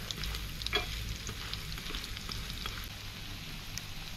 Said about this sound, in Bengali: আলতো করে আপনারা এপিট ওপিট ভেজে নেবেন।